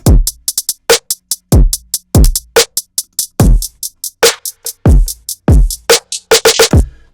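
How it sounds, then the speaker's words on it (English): A punchy drum loop with kick, snare and hi-hat hits in a steady, busy rhythm, played back loud and up close with no voices over it. "So as we can hear, our first drum loop was lifeless"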